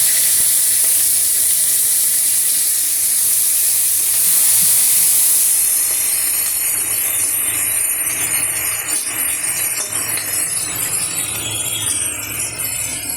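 Panch phoron spices, chilli and tomato hit hot oil with a loud, close hissing sizzle that stays intense for several seconds before easing into a lighter, steady crackle.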